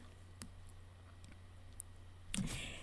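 A computer mouse gives a few faint, isolated clicks over a steady low hum, then a slightly louder cluster of clicks near the end, close and quiet with no talking.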